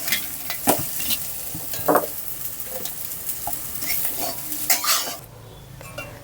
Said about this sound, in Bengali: এবার খুব ভালো করে আরও কিছুক্ষণ পেঁয়াজটা আমি ভেজে নেব।